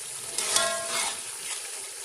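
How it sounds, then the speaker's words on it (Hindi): Tomato masala fries in a pan with a soft, steady sizzle and a light scrape of stirring, fairly close and with no talk. "अब मैं इस मसाले की थोड़ी सी भुनाई करती हूँ।"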